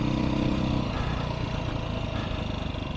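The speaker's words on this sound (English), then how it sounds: "The bike's running good." A Beta 500 RRS dirt bike engine runs steadily on a Colorado forest trail, a loud, close, continuous rumbling drone with no talking over it.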